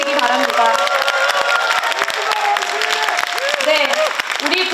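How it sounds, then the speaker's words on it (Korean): Dense clapping from a large crowd at a party rally in Jeonbuk, steady and loud for the whole stretch, mixed with cheering voices and a drawn-out amplified voice or music tones over the top. "여러분 다시 한번 뜨거운 박수로 맞이해 주시기 바랍니다"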